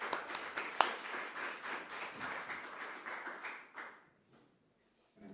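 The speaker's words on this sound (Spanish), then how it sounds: "así que nuestro aplauso para él" An auditorium audience gives a few seconds of steady, moderately distant applause that fades out, followed by brief quiet.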